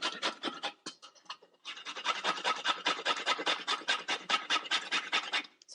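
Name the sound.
grating tonka beans with a hand microplane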